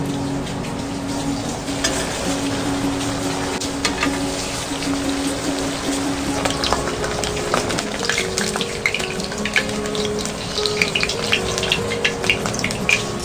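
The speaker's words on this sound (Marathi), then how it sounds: "पनीर बॉम्बची दुसरी बॅच मी तेलात सोडून घेते." Paneer sutli bombs deep frying in hot oil, a steady crackling sizzle with scattered pops and bubbling that holds evenly throughout, close and fairly loud with no talking.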